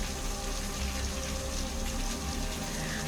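Continuous broadband rush of water from a waterfall pouring into a garden pool, steady and fairly loud throughout with no breaks.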